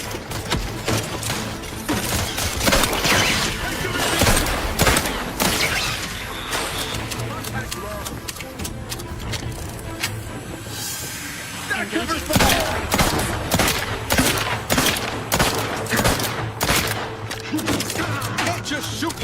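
Dense gunfire from the video game Outer Worlds 2, with rapid bursts and repeated shots that run almost without a break under a loud, busy game soundscape.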